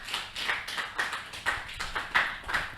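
Applause from a modest audience on a Congolese TV talk show, heard as clear, evenly spaced handclaps close by, steady for a few seconds with no speech.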